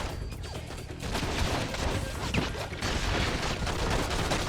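Rapid gunfire from a character running and shooting in a PlayStation demo video game, dense crackling bursts continuing steadily throughout at close range with no talk.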